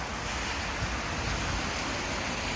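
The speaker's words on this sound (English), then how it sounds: "we spot this waterfall right behind us" Waterfall in Iceland heard close by, a dense, steady roar of falling water filling the whole stretch with constant broadband rushing.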